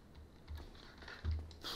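Computer keyboard keys pressed during Dark Souls play, several quiet, scattered clicks and taps at irregular intervals, close but faint, with no talk over them.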